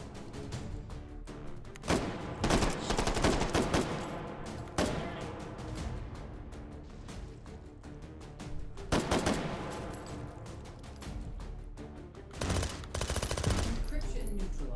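Rapid bursts of automatic gunfire from a short-barreled weapon in the VR shooter H3VR, loud and close, with dense volleys and brief gaps throughout.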